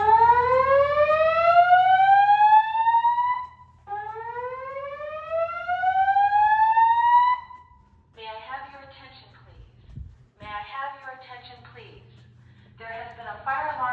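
A Notifier NFS2-3030 fire alarm panel's evacuation signal sounds as loud, repeating rising sweep tones, two long whoops in a row, followed by a recorded voice announcement over a steady background hum.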